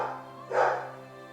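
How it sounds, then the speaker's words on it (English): A pet dog gives a single short bark, heard somewhat distant and muffled indoors over a steady electrical hum. "That's my dog barking."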